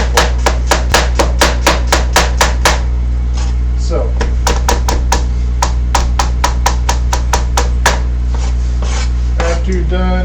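A kitchen knife chops shallots on a cutting board in a steady run of sharp, close taps with a brief pause midway, over a constant low hum.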